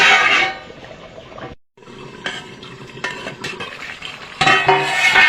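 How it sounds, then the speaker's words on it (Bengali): Chicken curry with fried potatoes being stirred in a pan, giving close scraping and clinking of a utensil against metal over a steady cooking sizzle, with a brief pause partway through. "একটু নাড়িয়ে দেবো"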